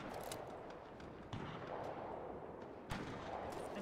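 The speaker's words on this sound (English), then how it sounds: "Oh, they are shooting us." Gunfire in the video game Fortnite sounds as faint, distant sharp cracks, a couple of distinct shots standing out from a low, muffled background.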